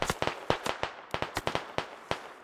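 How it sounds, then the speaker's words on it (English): A rapid string of sharp rifle shots in the Squad military shooter, over a dozen cracks in quick uneven succession, each with a short decaying tail and sounding fairly close. "Shots coming from Frederick's cousin Swine. Nearly hitting Kuba through the trees."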